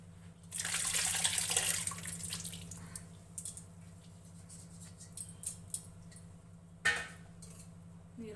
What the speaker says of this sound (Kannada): ನೀರು ಹಾಕಿ